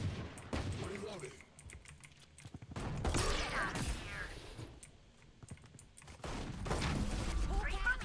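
A weapon reloads in a Valorant match, a run of quick mechanical clicks and clacks mixed with nearby bursts of gunfire and game effects, with voices in the background.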